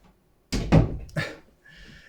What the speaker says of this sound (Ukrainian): знову ті двері закриваються.